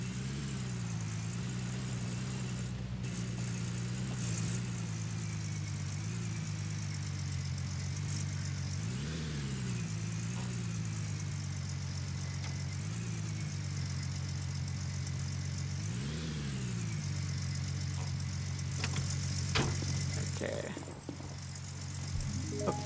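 A truck engine drives steadily at a close, even drone, with a couple of brief rising revs as it speeds up before easing back to a constant hum near the end.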